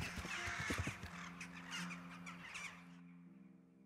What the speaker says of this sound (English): Doesn't that sound like the nightingales?